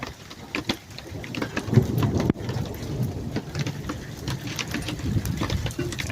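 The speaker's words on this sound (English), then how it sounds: "And there's a bit more thunder." Steady rain falls outdoors during a thunderstorm, a dense wet hiss throughout, with low thunder rumbling underneath and a sharp crack partway through.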